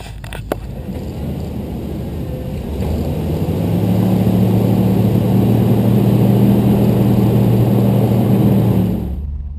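A Jeep Rubicon's engine throttles up on an off-road trail, a close, loud rising roar that builds and holds steady for several seconds before cutting off, with no talking.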